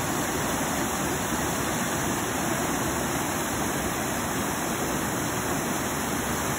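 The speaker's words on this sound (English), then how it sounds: "I'm looking closely at the waterfalls and wondering how the water decides to go where it goes." Water from Beacon Falls rushes over rocks in a steady, loud, unbroken roar that stays constant from start to finish, with no voices or other sounds.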